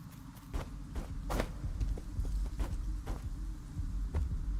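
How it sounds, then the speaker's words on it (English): A low, muffled heartbeat-like throb from the video game Nine Sols pulses steadily off to one side, soft and repeating beneath faint ambient hum and scattered thuds. "Hear like a heartbeat-esque sound coming to the left."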